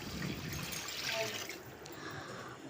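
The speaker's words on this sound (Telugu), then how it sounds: "చింతపండు వాటర్ పోసాను." Tamarind water is poured into a cooking pot, giving a soft, steady trickling splash that runs for a few seconds at low volume.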